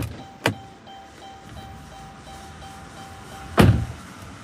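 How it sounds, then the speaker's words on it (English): With the car door open and the key left in the ignition, a soft warning chime pulses steadily throughout, and two sharp thumps land near the start and near the end. "If I open the car and leave the keys in the ignition, you're going to hear this."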